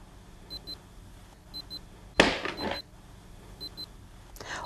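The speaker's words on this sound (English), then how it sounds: "Continuous beeping is also caused when the filter basket is not properly in place." A Cuisinart Burr Grind & Brew 12-cup coffeemaker gives faint, high error beeps in repeated pairs, cut by a louder clatter in the middle, with no voices.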